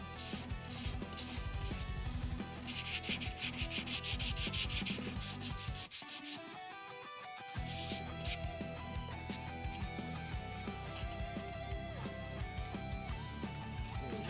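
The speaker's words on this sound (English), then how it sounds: "Just sandpaper this." Sandpaper rubbed over a miniature model base in quick, repeated scratchy strokes, close and fairly loud, with a brief pause near the middle before the strokes resume.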